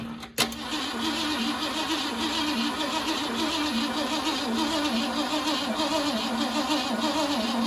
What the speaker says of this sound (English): Yeah, keep cranking her a little bit, see what happens.